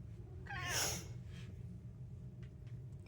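A pet cat named Mr Rikiki lets out a single drawn-out meow in a kitchen, waking the household like an alarm clock, followed by soft breathing and faint rustles.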